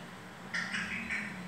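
An African grey parrot voices three short nasal quacks in quick succession, imitating a duck, close and moderately loud.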